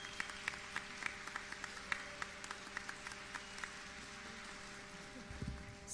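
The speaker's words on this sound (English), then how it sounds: "can we give them a round of applause" Applause from the audience at a youth construction summit hosted by the City of Johannesburg, steady moderate clapping with a few sharper individual claps standing out, heard from a distance in the hall.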